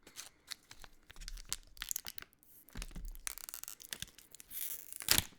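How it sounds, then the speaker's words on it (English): A trading card pack wrapper torn open by hand at the corner, close up: quick crinkly rips and crackles in short bursts with small pauses, ending in a sharper tear. "I always rip the corner."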